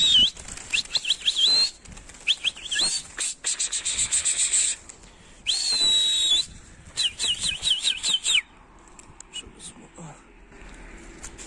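Young pigeons taking flight, their wings flapping in repeated loud bursts close by with brief pauses between, plus a few faint whistles and chirps.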